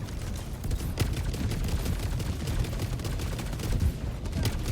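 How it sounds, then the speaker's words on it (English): Sustained rapid gunfire and explosions from a rocket sentry firing on a harvester in Helldivers 2 during a battle against the Illuminate, dense and continuous at close range throughout. "Didn't take long for that rocket sentry to start taking shots at it."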